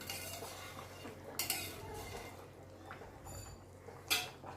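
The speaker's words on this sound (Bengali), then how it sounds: "এবার দেখুন একটু নাড়িয়ে দিলাম" Spoon stirring a potato and meat curry in a pot, with soft scraping, a few metallic clinks against the rim and a low background hum, quiet and close with no speech.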